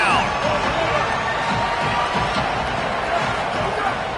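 Football stadium crowd roaring on a third down, a dense, steady wall of cheering and shouting with scattered whistles rising out of it.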